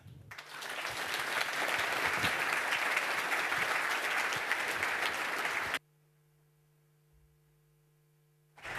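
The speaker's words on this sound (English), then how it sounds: "So please welcome Florian and Niklaus with a big round of applause." Loud, sustained applause from a conference audience welcoming two speakers to the stage at the 33C3 hacker congress, filling the hall for several seconds before cutting off abruptly into near silence with a low steady hum.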